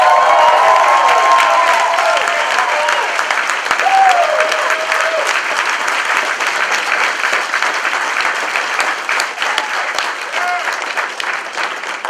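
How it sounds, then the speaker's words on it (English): Sustained, loud audience applause with some cheering fills a leadership summit hall for the whole stretch, a dense crowd sound that never lets up, with voices mixed in. "Give yourselves a round of applause"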